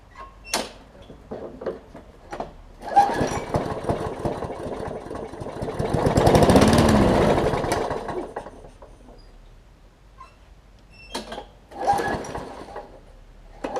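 Craftsman push mower with a missing wheel, dosed with carb cleaner, cranking with a few short pulls before the engine catches and runs briefly, swelling to a rough roar mid-clip and then dying back, followed by more clattering pull attempts.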